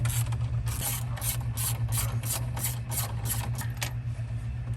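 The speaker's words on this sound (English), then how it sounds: "So we'll go ahead and remove 3 of these bolts." A ratchet works bolts loose on a GMC Yukon SS, its clicks coming in a steady, evenly spaced run of bright bursts over a constant low hum, close and fairly loud, with no talking.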